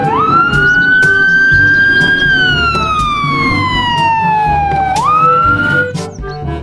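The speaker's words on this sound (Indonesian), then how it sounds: "Yang ini ada mobil pemadam kebakaran." A toy fire truck siren wails loud and close, its electronic tone rising and slowly falling, then sweeping up again, with rattling plastic noises underneath.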